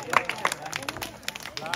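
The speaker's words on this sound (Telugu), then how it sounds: "చప్పట్లు అన్ని కొట్టండి గట్టిగా" Scattered hand clapping from students at a school Independence Day prize giving, loose and uneven, with a few sharp claps and some speech and chatter mixed in.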